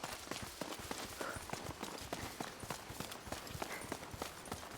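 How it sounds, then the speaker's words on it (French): Horse hooves clip-clop at a steady, quick rhythm in the video game A Plague Tale: Requiem, fairly close and continuous, with game ambience underneath and no talking. "Peut-être prendre les chevaux."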